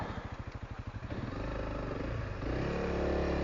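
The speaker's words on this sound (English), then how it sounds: "Bike don't even want to take off. It's just spinning." A Honda CRF300L dual-sport motorcycle's engine chugs, then revs higher and steadily as its rear wheel spins in soft Arizona desert ground, close and continuous with no talk.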